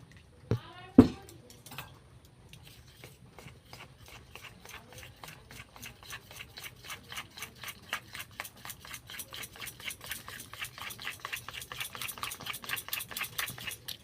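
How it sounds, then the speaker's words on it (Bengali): Flour and water are whisked into a batter in a bowl, a steady rapid scraping and tapping that builds in speed and loudness, preceded by a couple of sharp knocks at the start. "আমি বাটিতে ময়দা নিয়েছি, এইবার অল্প করে জল দিয়ে একটা ব্যাটারের মতো বানিয়ে নেব।"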